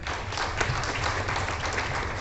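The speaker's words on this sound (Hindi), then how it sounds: "एक बार उसके लिए जोरदार ताली" An audience at a Ramayana Research Council gathering in Sitamarhi, Bihar, applauding, with dense, steady clapping from many hands sustained throughout.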